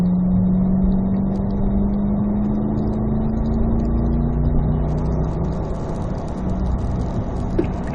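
A Corvette Z06 on a race track accelerates with a loud, steady engine drone whose pitch rises gradually, the sustained roar filling the whole stretch.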